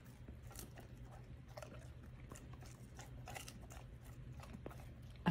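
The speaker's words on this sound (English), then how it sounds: "I love to crunch toast." A Great Dane puppy crunches and chews a piece of training toast up close, with repeated short crunchy bites and chewing scrapes over a steady low background hum.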